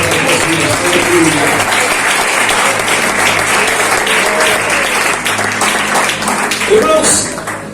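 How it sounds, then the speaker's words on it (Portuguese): A church congregation at a service in the indigenous village of Comboios, Aracruz, applauds warmly and steadily for several seconds, a dense, close wash of clapping with voices mixed in, fading slightly at the end. "dê uma salva de palmas bem calorosa para Jesus"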